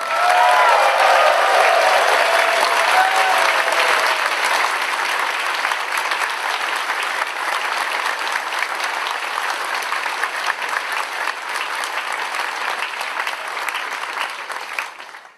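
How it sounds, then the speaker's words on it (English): A convention crowd at a closing ceremony cheers and applauds guests of honor, with a few whoops at first, then loud, continuous clapping that holds steady before tapering slightly at the end. "Can we have a fantastic cheer and round of applause for our guests of honor, Dark Natasha and Ryan?"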